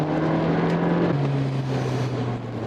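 Fifth-generation Toyota Prius hybrid, about 190 horsepower, accelerating hard on a circuit, a steady engine drone with a tone that drops slightly midway over broad road and wind noise, heard from inside the cabin.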